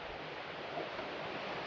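Steady broadband rush of water running through a concrete brook beside a New England hiking trail, constant and moderately close with no breaks or voices.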